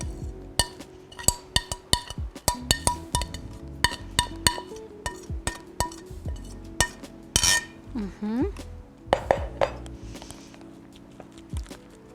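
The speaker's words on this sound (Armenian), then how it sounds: "Գդալի օգնությամբ փորձեմ հարթեցնել այն։" A metal spoon scrapes and taps against a dish while a round cake is smoothed flat, giving a steady run of sharp clinks and scrapes close by, without speech.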